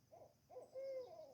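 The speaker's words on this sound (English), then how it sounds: "There's an owl. I don't know if that's coming through." An owl hoots several times in the early morning outdoors, soft rounded calls with a longer drawn-out hoot near the end, fairly faint against quiet surroundings.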